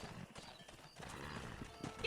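Galloping hooves and a horse's whinny from Red Dead Redemption, close and continuous through a short stretch while herding cattle, with game sounds mixed in.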